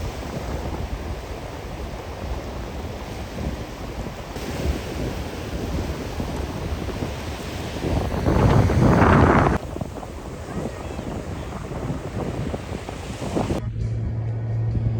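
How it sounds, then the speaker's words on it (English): Strong wind blows across a beach with waves breaking, a steady, loud rushing roar that swells into a heavier gust midway before settling back to a constant blustery noise. "The wind picked up a lot since earlier."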